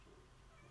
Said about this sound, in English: meow. I heard that.